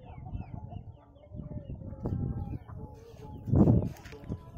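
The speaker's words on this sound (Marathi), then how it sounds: "आता मी कोंबड्या सोडलेल्या आहेत चरायसाठी" Free-range village chickens released in the evening to forage, clucking and calling at varied distances with a louder burst of calls near the end, set against faint outdoor background sound.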